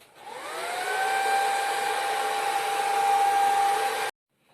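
A hair dryer blows steadily for about four seconds to dry a watercolor painting of a spring bird, a loud even whine with a rising tone at start-up before it cuts off abruptly.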